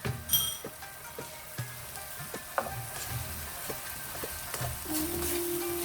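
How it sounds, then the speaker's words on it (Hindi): Garlic-ginger paste going into a hot pan of dhaba-style masala bhindi over a high flame, a steady close sizzle punctuated by sharp spoon taps and stirring clicks, the frying hiss building louder toward the end, with no talking. "साथ ही इसमें मैं ये लहसुन अदरक का ये पेस्ट डाल दूंगी।"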